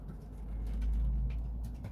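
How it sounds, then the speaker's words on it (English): A racing pigeon in a UK aviary gives soft, low cooing over a deep background rumble, with a few faint rustles and no speech. "Ain't you a beautiful bird?"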